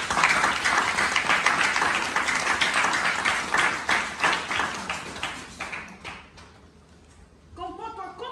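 Congregation at an Easter spiritual retreat clapping together in a loud, rhythmic burst that fades after about six seconds, followed by a voice speaking.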